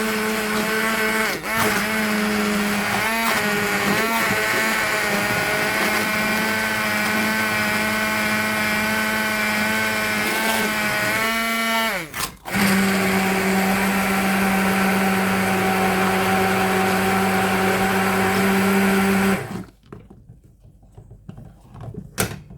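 Blender puréeing roasted red pepper and tomato soup, a loud continuous motor roar with a brief stop and restart partway, running steadily for nearly twenty seconds before cutting off.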